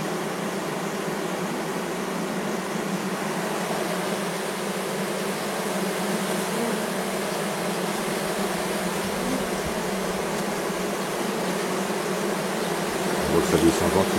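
A honeybee swarm being collected in a village hums and buzzes in a dense, continuous drone from many insects close by, steady throughout with a slight swell near the end.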